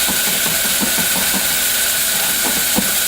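Onions sweating and sizzling gently in a pan for ribs and baked beans, a steady close hiss with soft crackling pops scattered throughout.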